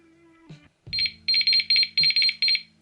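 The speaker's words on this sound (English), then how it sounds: "This white light here, that only beeps when the alarm goes off." A Matt Hayes Adventure fishing bite alarm beeps loudly and up close in a rapid run of high, pulsing bursts, after a short hum and a few soft handling knocks.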